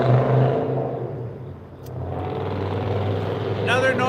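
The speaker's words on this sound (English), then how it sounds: "Another noisy car." A noisy car passes trackside at night beside the CSX rail line in Dalton, Georgia, its loud broadband engine and tire rumble swelling, dipping, then building again close by.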